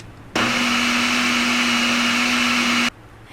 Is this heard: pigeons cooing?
no